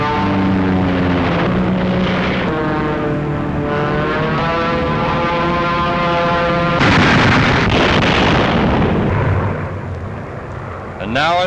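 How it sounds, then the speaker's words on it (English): WWII P-38 Lightning fighter planes drone loudly overhead, their propeller engines sliding up and down in pitch before a harsher roaring surge sweeps through and fades. "They are the fighters that cover the bombers on deepest penetrations into Germany."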